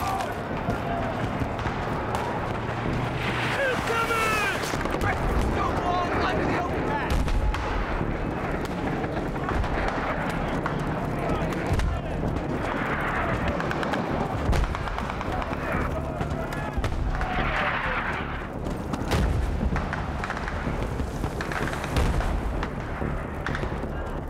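Mortar fire in Battlefield 3 during an invasion of Tehran, Iran: repeated heavy booms and thuds amid running footsteps and combat noise, with soldiers' voices shouting throughout.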